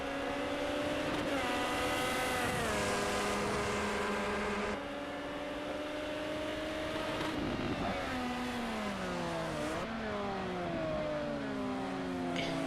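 Ferrari 355 Challenge race cars circling a track: high-pitched V8 engines wail and rise through the gears, then drop in pitch through downshifts and braking before accelerating again, loud and close, with no talk.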